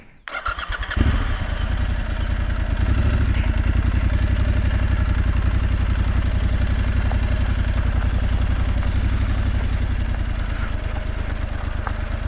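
An off-road motorcycle engine idles steadily and loudly up close in neutral, a rough rhythmic chug holding constant after a brief start-up clatter.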